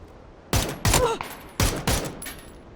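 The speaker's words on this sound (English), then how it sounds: "Ebba does spot them and is taking shots at them" Rapid gunfire in PUBG on the Miramar map, with two loud bursts of shots about a second apart, each a quick cluster of sharp reports, set against a quiet background.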